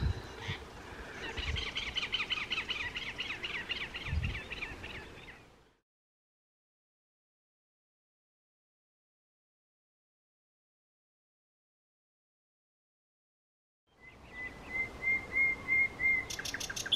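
Birds chirp and whistle in busy, repeated calls outdoors on a walk, heard clearly at the start. A long silent gap follows before chirping returns with one steady whistled note.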